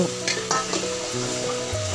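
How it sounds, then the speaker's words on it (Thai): Mixed vegetables stir-fried in a pan, a steady loud sizzle and hiss throughout, with occasional scrapes and clinks of the utensil as the food is turned. "พัดให้เข้ากันเจ้า พัดไปเรื่อยๆเจ้า"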